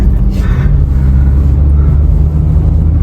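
A lorry's engine rumbles loud and close in a low, steady drone that holds without a break throughout.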